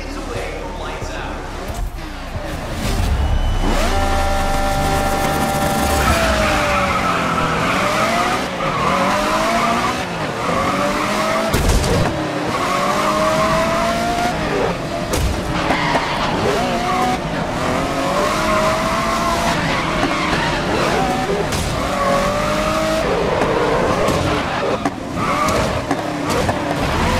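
Race cars roaring off the grid at a race start in Grid 2019, engines rising from idle to loud revving with tyre squeal and skids, a commentator talking over the engines.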